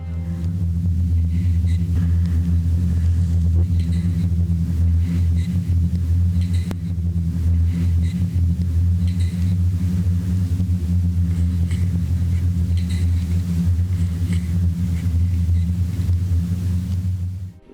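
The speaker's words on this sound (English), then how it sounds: "In dry weather, the dune produces a sound resembling a car buzz." A singing sand dune near the Ile River gives off a steady, low droning hum much like a car engine, sustained and fairly loud without break for the whole stretch.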